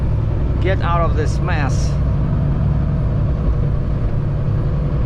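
A truck hauling a heavy steel box on a three-axle trailer gives off a constant low engine rumble and road drone. Someone speaks briefly over it near the start, and the drone then continues alone.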